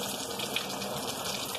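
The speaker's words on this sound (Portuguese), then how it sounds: "Vamos lavar as mãos. Calma aí, que torneira." Water runs steadily from a tap during handwashing, a constant close gushing stream with no pauses and no talking.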